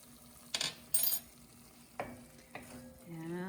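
Garlic goes into a pan of sweated onions: a few sharp clanks and scrapes of utensil against pan, followed by a rising soft sizzle near the end, close by with no voices.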